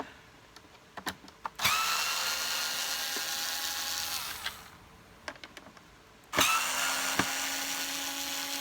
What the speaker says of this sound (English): Now, let's remove these screws.